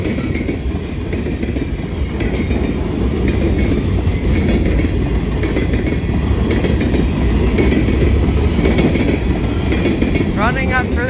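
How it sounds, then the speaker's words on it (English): A potash freight train rolls past close by, loud and continuous, with a heavy rumble and rhythmic clatter of the wagons, plus a brief wheel squeal near the end. "It's a potash train."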